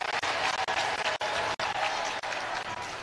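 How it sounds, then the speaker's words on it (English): A school basketball crowd at a boys' city championship game applauds and cheers loudly and continuously, with dense clapping and a few brief dips. "Is the Lawn Tech crowd starting to get loud? Yes. There's definitely the energy's picked up in here."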